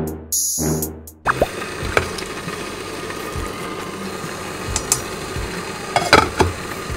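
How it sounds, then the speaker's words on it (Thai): A pot of water heats on a home stove for a shabu hotpot meal, giving a steady, low bubbling hiss with scattered soft pops and plops that continue for several seconds after a brief louder sound at the start. "รอให้น้ำเดือดก่อนขอต้มก่อนนะเว้ย"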